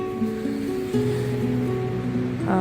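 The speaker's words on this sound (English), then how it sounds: "It is very windy here today." Steady, roaring wind buffets the microphone without letup in Ohio in spring, with a faint low tonal hum underneath.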